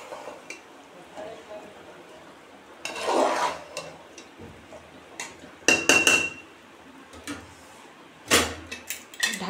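Mutton biryani is stirred in a pot with a metal spoon, giving several short scraping, clanking bursts separated by quieter gaps of low background hiss.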